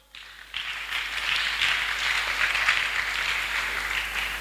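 A church congregation bursts into applause after a brief quiet start, the clapping quickly swelling into a dense, sustained roar of many hands that holds steady to the end.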